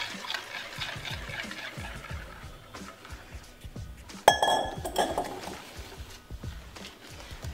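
Pancake batter is mixed in a bowl, with repeated clinks and scrapes of utensil against the bowl in an uneven rhythm, close and moderately loud.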